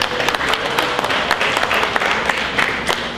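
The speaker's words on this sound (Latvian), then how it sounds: "gan sportisti ir pelnījuši aplausus, vai ne?" Steady applause from an audience at a local equestrian sports event in Latvia, dense clapping continuing throughout at a constant, fairly loud level with no voices on top.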